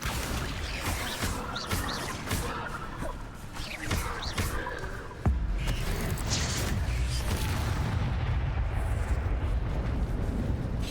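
Spell effects crackle and boom through a boss fight in Hogwarts Legacy, with dense, continuous blasts and impacts and a heavier rumbling surge partway through.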